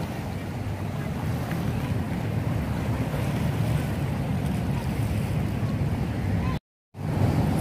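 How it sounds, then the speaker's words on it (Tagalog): Strong waves at Manila Bay churn in a continuous, loud wash with heavy wind buffeting the microphone, broken by a brief dropout near the end. "Malakas ang atin alon dito ngayon."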